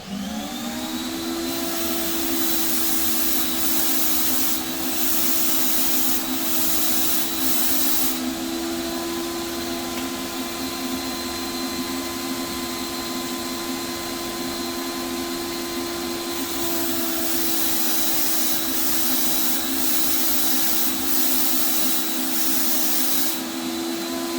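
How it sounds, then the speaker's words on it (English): A spray gun lays a light, even coat of paint from the AA series, a steady continuous hiss with a compressor-like hum that runs for the whole stretch with no talk. "We're going to spray a couple of these out to show you again just a nice light even coat with hardly any paint coming out."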